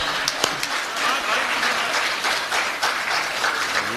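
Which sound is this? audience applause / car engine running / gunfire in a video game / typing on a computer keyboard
audience applause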